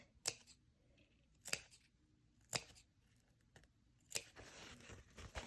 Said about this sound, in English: you might want to make a couple little snips here on the corners.